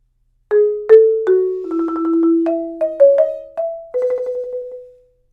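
Loud mallet percussion notes resonate warmly in a steady phrase, with some tremolo rolls and rounded attacks, no voices.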